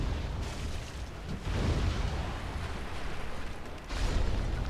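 Fire spell cast in Dark Souls, a loud whooshing burst of flame followed by a rumbling roar that swells again near the end, with no talk.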